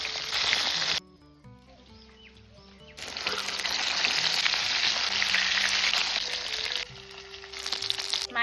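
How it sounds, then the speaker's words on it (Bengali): Khoira hilsa fish fry in hot mustard oil in a wok, giving a loud crackling sizzle that drops out briefly, then returns strongly and fades near the end. "এখন মাছগুলো ছেড়ে দিচ্ছি।"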